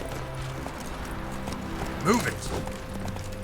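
Roach, the horse in The Witcher 3, gallops with close, quick hoof clip-clops, while a voice calls out briefly over the hoofbeats.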